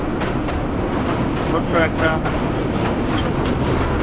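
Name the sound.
Hawr Express passenger train running at night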